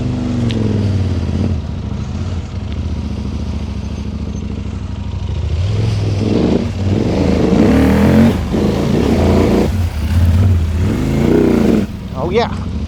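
An off-road motorcycle on an enduro track at the Red Bull Romaniacs event pulls away in second gear, its engine revving and rising loud and close, with rattling and clatter over the rough ground and a rider talking over it.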